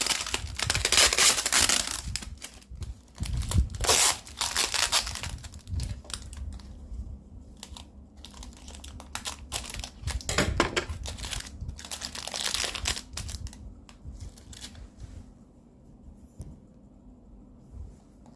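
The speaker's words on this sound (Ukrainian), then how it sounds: "І отак скотчем, щоб нічого не висипалося." Adhesive tape is pulled and pressed around a packaged lavandin seedling with its root in moist substrate, giving close crinkling and rustling bursts with tearing crackles that grow quieter toward the end.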